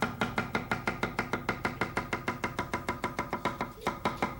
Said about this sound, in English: And then you cut it up into slices.